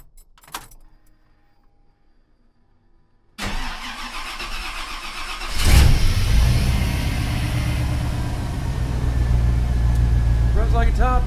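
An engine taken from an old G20 conversion van and fitted in a tiny camper cranks after a few faint clicks and keys, catches and settles into a loud, steady, close idle with a slight rise near the end.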